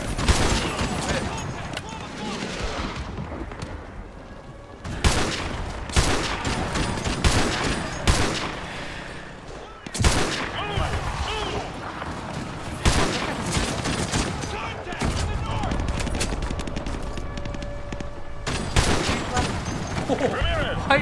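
Dense rapid gunfire and bursts from the Call of Duty Modern Warfare video game, loud and continuous in clustered volleys, with players talking over the shooting.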